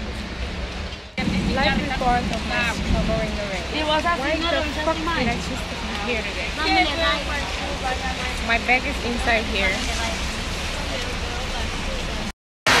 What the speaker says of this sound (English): it's just crazy raining